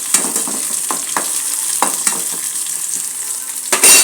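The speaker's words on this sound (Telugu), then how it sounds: "బాగా రోస్ట్ చేస్తున్నాను." Egg roasts in a hot pan with a continuous sizzle, broken by repeated scraping strokes of a spatula stirring it, close and fairly loud.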